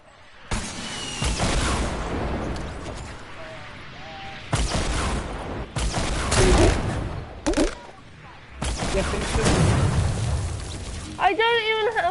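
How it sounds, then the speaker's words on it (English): Gunfire in the Fortnite video game: rapid bursts of automatic shots and blasts in long stretches, loud and dense, with excited player voices talking over the battle throughout. "someone's shooting at me!"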